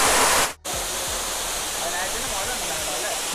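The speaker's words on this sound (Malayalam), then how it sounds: "ഇത്ര ഹൈറ്റിലാണ് വെള്ളം താഴത്തേക്ക് വരുന്നത്." Njandirukki Waterfalls, water plunging from a great height, make a dense, steady roar close by, briefly interrupted near the start and then constant.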